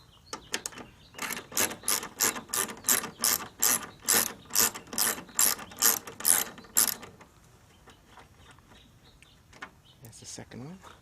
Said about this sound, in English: So I'm using a 10mm socket to get these two bolts off.